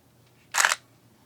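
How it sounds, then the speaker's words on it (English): A flagship Nikon DSLR fires its shutter during a repair, with power fed straight from the battery to the contacts on the back of the body. There is a single crisp, close mechanical snap, heard alone against a quiet background. "and I was able to fire the shutter."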